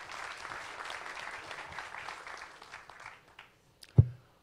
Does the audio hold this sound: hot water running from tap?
no